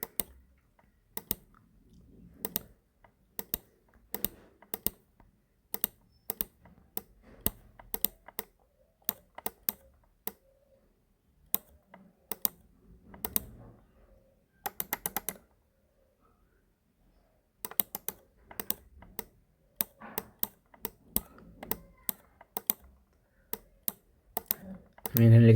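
A computer keyboard clacks as text is typed into a design in Adobe Illustrator: quiet, close keystrokes arriving in short irregular bursts separated by pauses.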